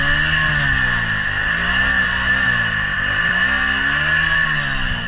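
A car engine held at high revs while driving through water, a loud continuous drone whose pitch rises and dips in wavering sweeps as the throttle is worked, with no voices over it.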